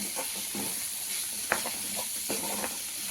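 Green eggplant frying in a pan for a coconut curry, a steady close sizzle and hiss with soft scraping stirs sounding every so often.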